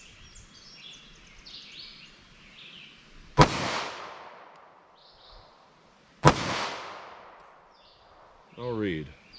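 Two sharp, loud gunshots from a .38 Special revolver with a 4-inch barrel firing Winchester Silvertip rounds, spaced about three seconds apart at a ballistics test, each with a decaying echo, followed by a brief electronic beep.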